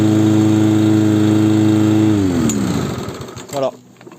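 A small pull-start petrol engine with no throttle runs with a loud, steady, buzzing drone, then drops in pitch and sputters down to a stop.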